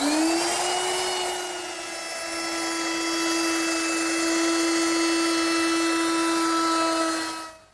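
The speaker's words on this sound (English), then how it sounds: "Now I'll round over the top edge with a 3/8 inch radius rounding over bit." A router fitted with a 3/8 inch radius rounding over bit shaping the top edge of a wooden tabletop, a steady high-pitched motor whine with a bright tonal core that holds for several seconds, then cuts off.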